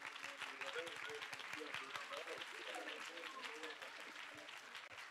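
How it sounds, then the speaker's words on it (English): A crowd at a live Chanukah rally claps quietly and distantly for the participants in Dubai, with voices and murmuring mixed through the scattered claps. "a round of applause for Dubai"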